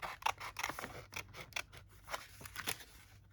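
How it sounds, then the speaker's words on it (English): Scissors snip repeatedly through a paper junk mail envelope, trimming close to the edge; a series of crisp, close cuts falls in an uneven rhythm, with no talking. "For that, I'm just taking out my scissors."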